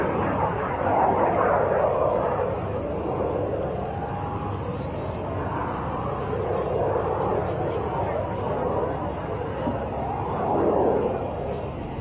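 A small jet, the mini jet flown by Tom Larkin at the Warriors Over the Wasatch air show at Hill AFB, roars past in a steady, swelling whoosh that rises and falls as it passes.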